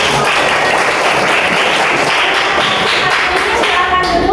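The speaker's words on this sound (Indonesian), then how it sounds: "Oke, tepuk tangan untuk kalian." Schoolchildren in a classroom clap together for several seconds, a dense, steady patter of many small hands filling the room at close range, with a few louder taps and thuds mixed in.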